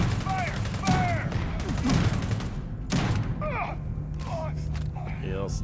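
Gunfire in the space game Starfield: several sharp shots and short volleys mixed with a thudding combat din, under a constant low hum and chirpy whooshing effects.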